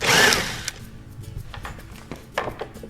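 Screws are removed from the bumper of an Andersen A-Series patio door: a short powered whir at the start, then scattered faint clicks and scrapes of handling nearby.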